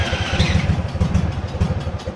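A zero turn mower's previously locked-up engine cranks and sputters, a loud, close, uneven low chugging with clattering pulses throughout, no talking.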